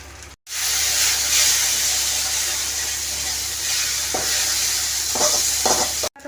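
Ground spices with ginger paste, cumin, garam masala and chilli powder fry in a pan with a loud, constant sizzle, while spoon scrapes and stirring clicks come through near the end.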